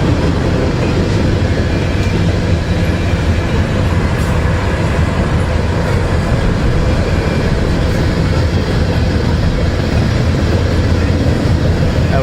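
A train led by two Norfolk Southern locomotives rumbles loudly past close by, a continuous roar with rattling wheels on the rails. No distinct horn blast stands out.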